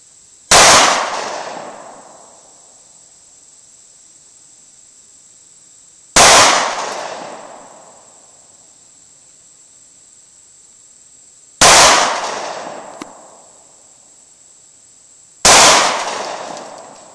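Four loud, sharp pistol shots from a Taurus PT111 G2 9mm, spaced several seconds apart, each with a short decaying echo at an outdoor range.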